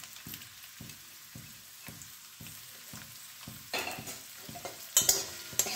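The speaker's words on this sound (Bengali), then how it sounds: "পেঁয়াজটা ভেজে নেব" Onions frying in hot oil for chana, a soft sizzle broken by regular rhythmic stirring strokes that grow louder and crackle more sharply toward the end, with no speech.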